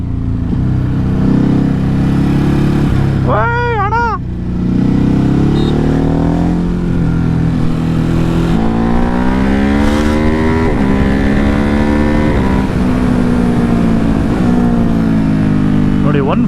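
A Ducati Hypermotard engine roars loudly and steadily up close, rising and falling in pitch as it revs through gears, with people talking over it.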